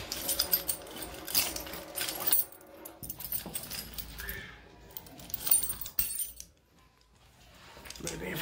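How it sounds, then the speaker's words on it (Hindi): Keys jangle while someone hunts for the right key before taking a bike out, in scattered bright metallic clinking bursts over background noise and intermittent voices. "सबसे मुश्किल टास्क होता है चाबी ढूंढने का"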